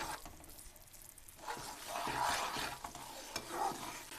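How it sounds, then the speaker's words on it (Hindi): Besan and ghee batter is stirred in a pan for besan barfi, a soft continuous scraping and gentle sizzle that grows louder after the first second, with repeated spoon strokes against the pan. "अच्छे से आप इसको इस तरह चलाएं और मिक्स करते जाएं"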